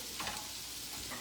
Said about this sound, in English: And then my onions, I'm going to turn it down a little bit. I don't want them to burn.